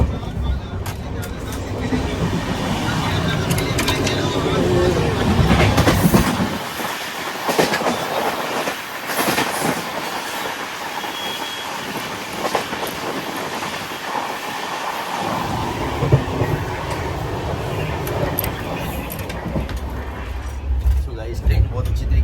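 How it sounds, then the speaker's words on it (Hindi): A passenger train running on the rails toward Jaipur, a loud continuous rumble with clickety-clack and a passing roar close by, while someone talks over it throughout. "यहाँ पे ट्रेन बहुत अच्छी तरीके से घूमती है, आपको मैं दिखा रहा हूँ।"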